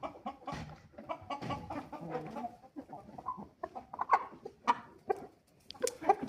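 A rooster of about five kilograms clucks in short, uneven bursts with scattered sharper calls, fairly quiet and close in a farmyard setting, no talk.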